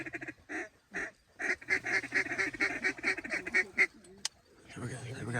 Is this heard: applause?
no